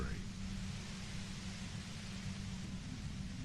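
Steady, hissing radio static in the Disco Elysium video game, a flat wash of white noise held at low volume throughout without change.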